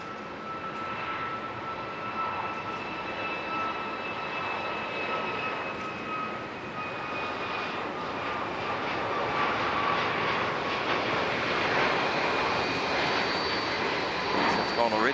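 Heavy jet airliners departing Auckland Airport on a foggy morning, heard as a sustained broad engine roar with whining tones that stays steady and then swells louder toward the end, mid-distance and continuous, with a voice talking now and then over it.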